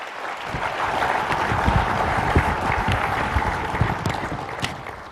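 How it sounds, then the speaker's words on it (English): Lecture audience on the Kennedy assassination breaks into sustained applause, a dense, even wash of many hands clapping for several seconds with no talking over it. "let's give him a round of applause for the work that he's done in this case"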